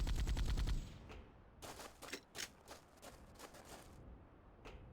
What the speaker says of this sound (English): Oh wait, I want to shoot the gun on this thing.